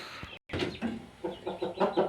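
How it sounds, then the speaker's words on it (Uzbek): Roosters cluck close by in a short burst of repeated throaty calls, a few quick notes following each other with farmyard background and no talk. "Endi xo'rozlarga navbat."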